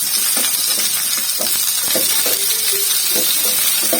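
Chopped onions and two green chillies fry in a hot pan with a steady, close hiss and crackle, with light scrapes from occasional stirring and no talking.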